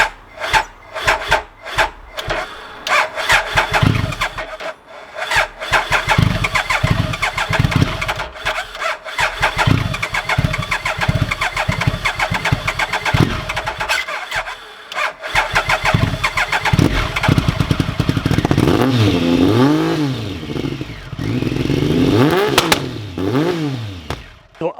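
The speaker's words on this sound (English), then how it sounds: "She starts, but she's very lazy to start" A Triumph 955i motorcycle engine cranks with loud rapid stuttering starter bursts, catches, and then runs roughly and unevenly, close up and loud, with no talking.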